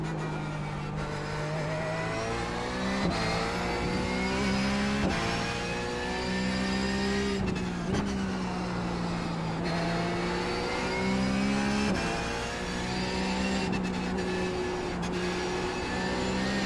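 A Porsche 911 GT3 race car in iRacing laps Zandvoort Club, its engine revving loud and steady with rising pitch sweeps and several sharp gear-change breaks, heard alone with no voices.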